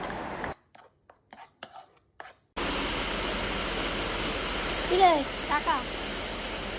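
After a few seconds of quiet clatter, a steady, dense rush of rainfall fills the rest, with faint birdlike chirps briefly above it.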